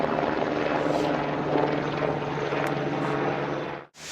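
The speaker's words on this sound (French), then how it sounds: "Avant l'arrivée du coup garde alerte, les hélicoptères Tigre sécurisent la zone." Tigre military helicopters secure the area during a military exercise, a loud continuous rotor and turbine drone that holds steady, then drops out sharply just before the end.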